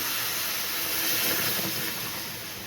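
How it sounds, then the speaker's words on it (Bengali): Water poured into a hot pan of braised goat head with mixed lentils gives a steady, loud hissing sizzle that holds throughout and eases slightly toward the end, with no talking. "এবার আমি দিয়ে দেবো জল আমার কষানো হয়ে গেছে"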